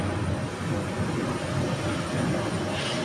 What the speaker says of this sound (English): So there's a SkyWest landing on the south runway.